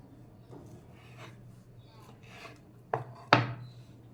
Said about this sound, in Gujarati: જો આવી રીતે આપણે બધા જ કટ કરી લેવાના.